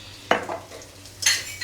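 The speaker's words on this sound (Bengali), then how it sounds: "ডালটা তেলে দিয়ে ঘাঁটি দিব।" Lentils (dal) tipped into hot oil and stirred, a sharp clatter and sizzle at the start, a softer stir after, then another burst of scraping and sizzle near the end, close by with no talk.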